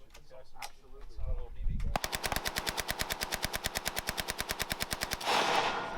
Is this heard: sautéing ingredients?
no